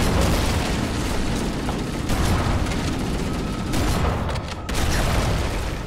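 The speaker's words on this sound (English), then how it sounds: "That was a lot of explosions." Explosions in Halo: Combat Evolved co-op on The Library level: a dense, continuous barrage of booming blasts and bursts, loud and sustained, with a brief dip near the end before the rumble resumes.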